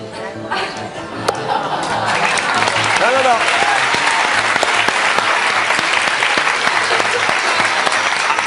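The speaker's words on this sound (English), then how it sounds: "Everyone's cheering" Loud, sustained applause from a large audience, dense clapping with some cheering that builds and holds steady throughout.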